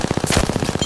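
Rapid automatic gunfire from Apex Legends, a steady rattling burst of about a dozen evenly spaced shots filling the whole moment, loud and close with no talk over it.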